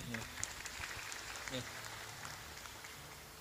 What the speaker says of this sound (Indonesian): Beri tepuk tangan buat beliau